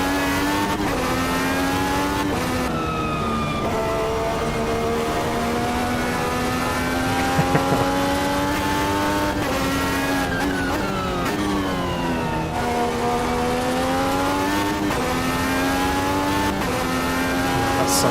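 Race car engine in the Automobilista 2 racing sim, loud and steady throughout, its pitch climbing and dropping repeatedly with abrupt, harsh gear changes and sharp rev swings, heard alone without talk.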